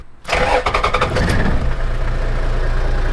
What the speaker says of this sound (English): it's idling better now because I've wound the idle up